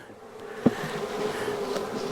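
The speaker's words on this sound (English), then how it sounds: "Bees can come up and down." Honeybees from a freshly caught swarm drone steadily at a hive, a close, continuous buzz with a faint hum and one brief knock.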